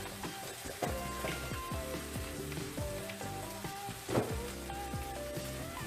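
Tomato passata hitting a hot pan of bolognese sauce, a steady close crackling sizzle with fine popping bubbles running throughout and a few louder spits.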